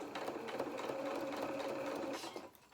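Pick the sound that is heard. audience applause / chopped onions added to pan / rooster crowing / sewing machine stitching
sewing machine stitching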